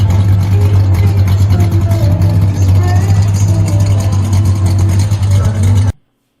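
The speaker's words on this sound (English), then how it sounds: "Even at idle, this thing sounded awesome." A Plymouth Superbird idles at a car show, a steady, loud low rumble with a deep, even throb that holds throughout before cutting off abruptly near the end.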